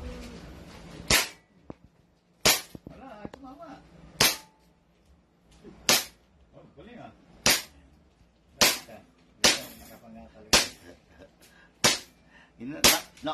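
A 2011 Trex Hi-Capa airsoft pistol fires about eleven sharp, snappy shots at uneven intervals, close and loud, with quiet voices and handling noise between shots.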